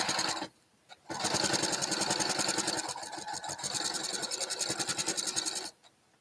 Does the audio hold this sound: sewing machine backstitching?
yes